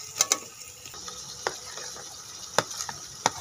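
Potato pieces drop into a pan for spicy mixed vegetable macaroni, making a handful of sharp, scattered clicks and taps over a faint background hiss, with no one talking.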